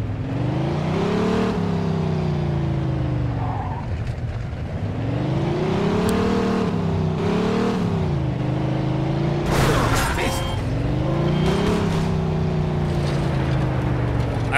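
A car in the Mafia II video game drives and revs, its engine rising and falling in pitch through several acceleration swells, loud and continuous, with a brief clatter or crash around the middle.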